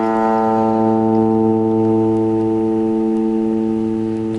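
A guitar's fifth string, tuned down for a song, rings out as a single loud sustained note that slowly fades over four seconds, with no other sound.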